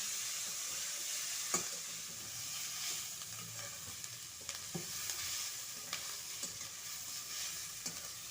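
Vegetables frying over medium heat for masala Maggi, a steady soft sizzle with occasional clinks and scrapes of stirring against the pan, fairly quiet and close, no voices.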